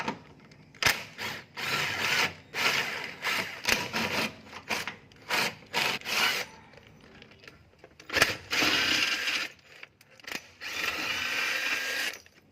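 A ratchet loosens 17mm cross-member bolts during an engine mount replacement, giving repeated close rasping clicks in short rhythmic strokes separated by brief pauses, with a few sharper metallic knocks.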